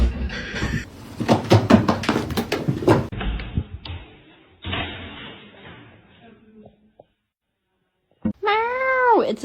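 A kitten meows several times in short, close calls at the start, then goes quiet. Later a rising, wavering cry returns, loud and near at the very end.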